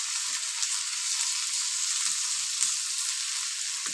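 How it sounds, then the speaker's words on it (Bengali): Long strips of potato fry in hot oil in a pan for a Spanish omelette, giving a steady close hiss and sizzle with faint crackles and stir knocks, no talk. "অয়েলটা ভালো মতো গরম করে নিতে হবে। অ্যাড করে নিতে হবে পটেটো।"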